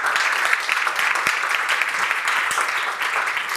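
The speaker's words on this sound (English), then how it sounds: "applause for Stefania" An audience in a room claps steadily for a startup pitch presenter at a launch day event, a dense, even wash of applause that holds for a few seconds with no one talking over it.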